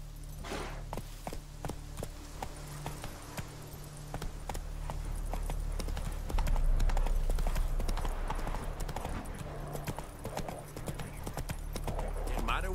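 Horse hooves clip-clop in a steady walking rhythm in The Witcher III: Wild Hunt, moderately close, with a low background drone and character voices talking over the hoofbeats.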